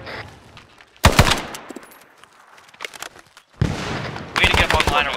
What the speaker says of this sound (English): Careful, there's shots on friendly. Under fire!